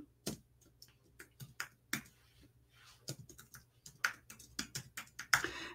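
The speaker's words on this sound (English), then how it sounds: "So let me just type my name in here." Keystrokes on a computer keyboard as a name is typed, irregular bursts of close, crisp clicks with short pauses in a quiet room.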